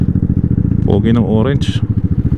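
A Vespa GTS300 scooter engine idles loudly and close with a steady pulsing putter while someone speaks briefly over it.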